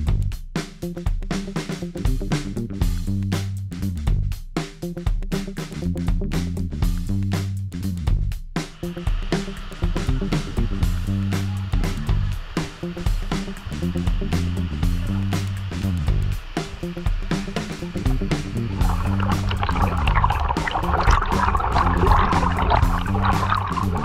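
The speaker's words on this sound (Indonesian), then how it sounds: "ini aliran sungainya juga cukup deras" A swift river near Simarudan waterfall rushes in a steady broadband roar, with clicking and knocking early on and a brighter splashing wash toward the end.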